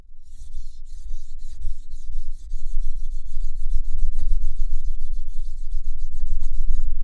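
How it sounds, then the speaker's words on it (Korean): An oboe reed knife is ground on a thin whetstone in steady, close back-and-forth rasping strokes that continue loudly without a break. "다시 한번 밑에 면을 갈 때에는 밀 때 힘을 주시고 뺄 때 힘을 빼주십니다"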